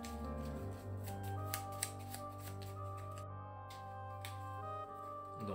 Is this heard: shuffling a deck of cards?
yes